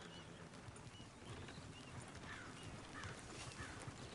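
Horse hooves clip-clop at a steady riding pace in a video game, a faint rhythmic clatter over soft ambient background with no talking.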